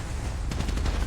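Rapid automatic gunfire from a tactical shooter match on the Chamberhills map, a dense burst of close, sharp shots over a low rumbling game background with no voices.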